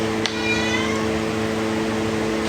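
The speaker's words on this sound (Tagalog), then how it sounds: "Oo daw, sabi ng pusa." A cat meows loudly and close, one drawn-out cry with a clear harmonic tone rising at the start, heard over steady background hum.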